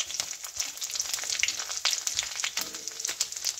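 Whole garam masala and dried red chillies fry in hot mustard oil in a kadai for khichuri, giving a continuous close sizzle with crackling pops and occasional stirring scrapes, without any voices.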